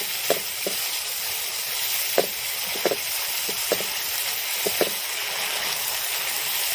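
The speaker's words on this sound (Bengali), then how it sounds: "কাজু বাদামটা দিয়ে ভালো করে নাড়বো।" Cashews fry in a pan of hot oil for Rohu fish kalia, giving off a loud, constant sizzle, with a spoon stirring and clicking against the pan now and then.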